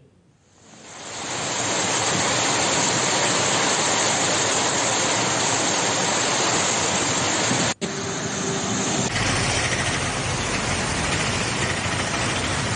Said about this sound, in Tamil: நள்ளிரவு முதல் விடாமல் தொடர்ந்து மழை பெய்து வருகிறது